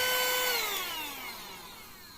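A mini rechargeable car vacuum cleaner whines as it runs down, its motor pitch sliding steadily lower while the sound fades over about two seconds, close and alone.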